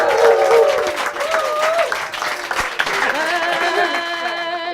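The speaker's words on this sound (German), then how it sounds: "Applaus für Guido Preuß mit seiner Überraschung" A talk show audience applauds with steady crowd clapping, overlapped by loud tonal music and a cheer or two, continuing through to the end.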